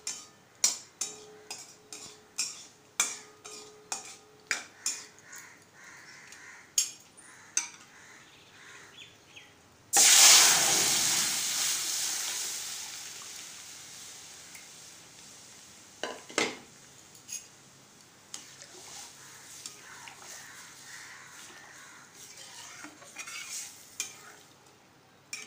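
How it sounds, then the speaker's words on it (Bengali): Chillies are fried in a pan for a dal tempering, with a loud, hissing sizzle bursting out as they hit hot oil, amid repeated clinks and scrapes of a spoon stirring against the pan. "ডাল ফোড়ন দেবো, লঙ্কাগুলো ভাজছি।"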